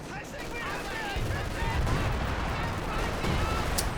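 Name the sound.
long-range artillery fire in video game Company of Heroes 2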